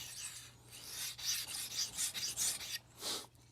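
Kitchen knife being sharpened on a 1000 grit whetstone, close rhythmic rasping strokes back and forth, about eight quick passes, with a faint low hum underneath.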